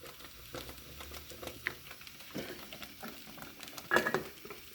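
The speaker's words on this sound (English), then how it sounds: "For us, we let it boil like this." A pot of maize meal pap boils over a fire, giving soft close bubbling, popping and patter at a low, uneven level, with one brighter pop near the end.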